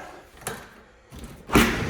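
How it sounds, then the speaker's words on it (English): Door being opened during a walk-through of a building at 1701 SW Jefferson: a soft click, a quiet pause, then a louder rushing swing and bump near the end, close by. "Yep, this door opens."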